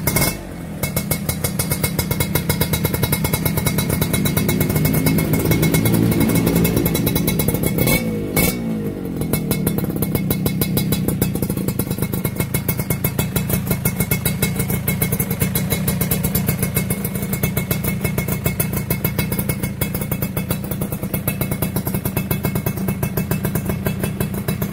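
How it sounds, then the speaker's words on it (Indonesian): A 2002 Suzuki Satria two-stroke motorcycle engine starts right away and settles into a loud, steady, buzzing idle close by, with a brief change around the middle before continuing to run evenly. "Sekarang kita akan coba untuk menghidupkannya."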